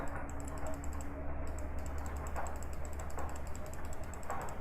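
Rapid, light clicks of a computer keyboard or mouse during play of the indie horror game Coma Mortuary patter on continuously under a faint background hum.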